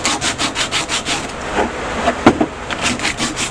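Sandpaper rubs back and forth over the edges of a large wooden die in quick, regular strokes, close and fairly loud, with a few knocks of the wood near the end.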